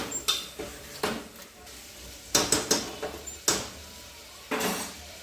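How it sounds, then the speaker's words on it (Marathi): Mutton drops into a hot pan and is stirred, giving a series of sharp sizzling bursts with spoon scrapes and clinks against the pan, close and fairly loud, with no talk. "आता आपण हे मटण टाकून घ्यायचं आहे आणि आता हे आपण व्यवस्थित मिक्स करून घेऊया"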